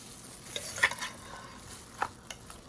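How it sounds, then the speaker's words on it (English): Oxtail meat browns in a pot over a medium flame, giving a steady low sizzle with scattered crackles and a few sharper pops. It is close and fairly quiet, with no talking. "I'm gonna let that meat start cooking"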